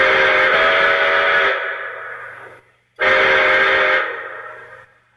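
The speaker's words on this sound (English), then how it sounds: "here's the smoking whistle" A model train engine's smoking whistle sounds twice, each a loud sustained electronic blast of about a second and a half that fades out, with a short silence between.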